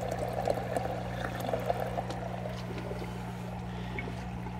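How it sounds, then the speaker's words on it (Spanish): Water pouring and trickling steadily through the pipes of a simple home hydroponic system, a continuous close splashing flow over a low pump hum. "el agua cae, corre, baja, corre por el próximo tubo"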